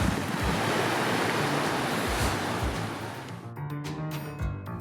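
Ocean surf washes onto Glass Beach, a shore of sea glass in place of sand, as a loud continuous rushing roar with some wind buffeting on the microphone, easing slightly toward the end.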